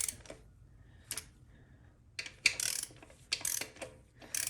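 Ratchet clicking in short bursts while snugging down bolts on a Ford 4R100 transmission case in a crisscross pattern, with pauses between each bolt; close, moderate, no talking.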